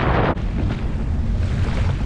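Loud, steady wind roars over the microphone, with rushing water and spray off a fishing boat's bow beneath, close and continuous, at sea in heavy swells.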